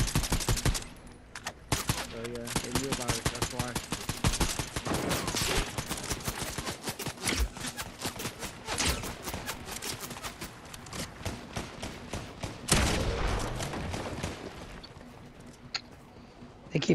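Sustained automatic gunfire from a battle royale video game, dense rapid shots rattling almost continuously at moderate level, with a heavier burst near the end.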